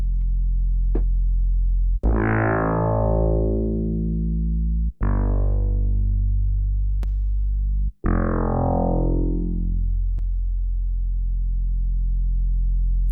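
A sustained electronic synth tone whose wash of reverb swells and decays as the reverb mix is swept, repeated in three sweeping bursts with sharp clicks between.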